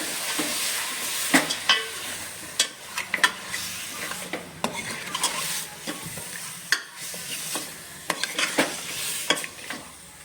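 Mutton with salt and turmeric sizzles in oil while a spoon scrapes and clanks against the pot in irregular bursts, a close, busy stir-fry with no talking.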